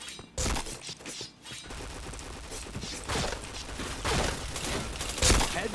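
Rapid bursts of automatic gunfire in a shooter video game, dense repeated shots and impacts packed close together over several seconds, loud and continuous.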